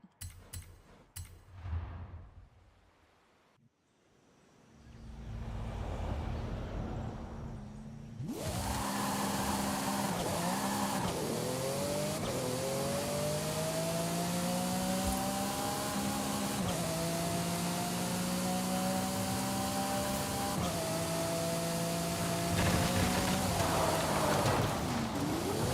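A supercar engine revs and holds a steady, loud drone with rising and falling harmonic tones for about seventeen seconds, following a few seconds of quieter clicks and rumble.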